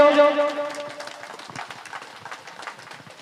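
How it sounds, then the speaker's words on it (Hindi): At an Independence Day celebration, an audience claps for a speaker. A voice opens the moment, then scattered, crisp handclaps from a modest crowd follow and carry on steadily at moderate loudness. "जोरदार ताली जाओ।"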